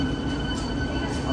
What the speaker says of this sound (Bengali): আমরা এখন উঠবো ট্রেনও